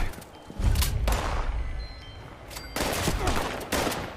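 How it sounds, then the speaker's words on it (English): Gunfire in the online game Fallout 76 during a fight with a raider, with bursts of rapid shots and thuds at moderate distance, mixed with other game sounds and no talk. "Now who's shooting at us?"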